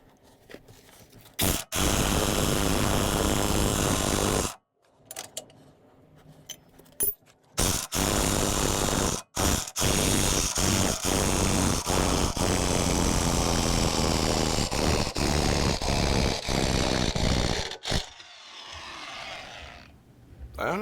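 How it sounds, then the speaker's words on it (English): A pneumatic impact gun works on the control arm bolts of a Jeep Wrangler TJ, loud sustained bursts of hammering rattle repeating over about twenty seconds, broken by short silent pauses, with no talk over it. "Okay, I'm gonna try the impact gun. See if that works."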